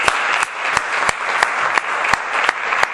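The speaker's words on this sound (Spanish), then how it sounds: "le damos un aplauso" Steady applause from a lecture audience after an evening talk, crisp individual claps standing out at regular intervals over a continuous wash of clapping.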